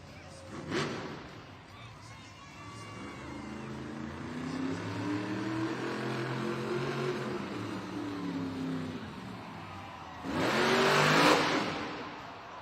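Grave Digger monster truck at a Monster Jam arena event in Duluth, Georgia, with engine surges heard somewhat distant: a short burst near the start, a sustained rumble through the middle and a stronger rev near the end.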